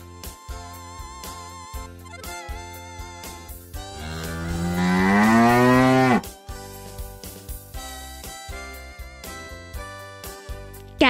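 A cow gives one long, loud moo that rises and swells for about two seconds in the middle, set against bright, rhythmic background music that plays throughout.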